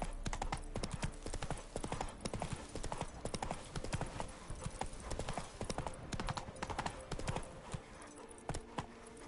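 Horse Roach galloping in the Witcher 3 video game, with rapid, steady clip-clop hoof beats running throughout, close and fairly loud, with a faint voice briefly over them.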